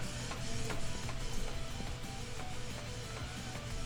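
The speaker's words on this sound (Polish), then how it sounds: "Masz, drukujemy." A shirt printer in the video game Laundry Store Simulator runs with a steady mechanical whir and faint rhythmic clicks, fairly loud and continuous throughout, with no talking.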